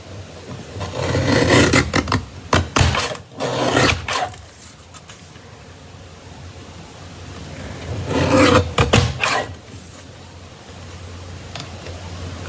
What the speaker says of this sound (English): I'm just going to trim the little frillies off the edge.